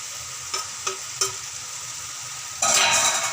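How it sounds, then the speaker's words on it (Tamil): Cleaned dried anchovies (nethili karuvadu) frying in a pan for a gravy, with a steady sizzle, a few sharp scrapes of stirring, and the frying swelling louder near the end. "சுத்தம் பண்ணியிருக்கிற கருவாடு, நெத்திலி கருவாடை நம்ம போட்டுடணும்"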